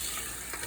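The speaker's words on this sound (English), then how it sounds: "I'm just sauteing this on medium heat" Beef chunks saute in a pan over medium heat with a bay leaf and green onion for meat with lentils (daal gosht), giving a brief, steady close sizzle with soft stirring.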